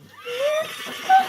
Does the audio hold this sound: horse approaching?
yes